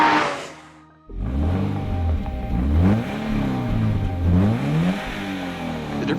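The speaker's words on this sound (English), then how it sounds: "Both engines sound thrilling as they rev towards their red lines" Porsche Boxster sports car engine revving hard toward its red line, loud and close, with rising and falling rev sweeps repeating after a sharp start, no talking.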